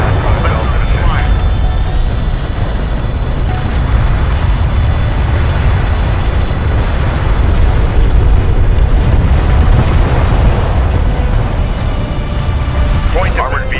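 Battle explosions from the Homeworld: Deserts of Kharak real-time strategy game, a continuous loud rumble of blasts and booms under game announcer voice lines.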